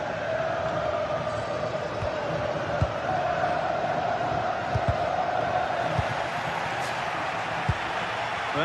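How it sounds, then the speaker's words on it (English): A large stadium crowd roars steadily in a football video game, a continuous dense wash of cheering and chanting with occasional low thumps underneath. "Well, just listen to this crowd. They want a bit more."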